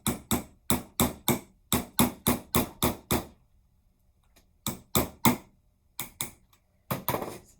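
A nail is hammered into a can to punch a hole, with a towel resting on top. Close, sharp metallic taps come in quick bursts of several blows, with a short pause before more strikes.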